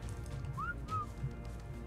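Short two-note whistle command in the Ark: Survival of the Fittest video game, a quick rising tone then a second gliding note, faint and clear over a low background hum.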